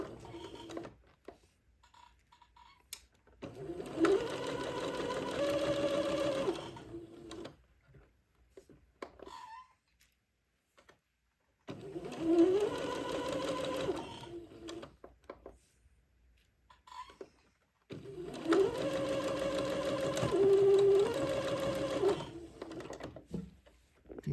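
A sewing machine stitches a gathered seam on a Christmas bishop dress in three separate runs of a few seconds each, with a steady close-up rattling hum and near-silent pauses between the runs.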